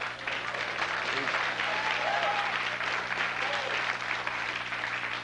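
Steady, sustained applause from a television studio audience fills the room, a dense wash of clapping heard at moderate distance with no break.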